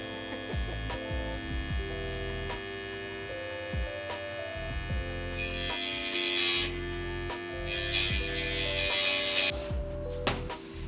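A machine shaving a thin cut off a twin-turbo Corvette engine block, giving a steady tonal whine with regular ticking, plus a harsher hissing cutting noise that rises for several seconds midway, close and continuous.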